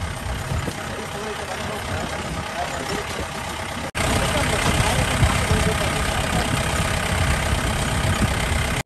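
Jeep engine running on an off-road track, a loud continuous rumbling drone that jumps up sharply partway through, with people talking over it.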